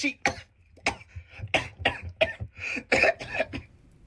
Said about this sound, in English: Honk lets out a deep cough.